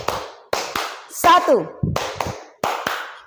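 A group claps hands in a counted rhythm, sharp claps landing in short bursts between spoken counting and instructions, with a brief vocal whoop partway through.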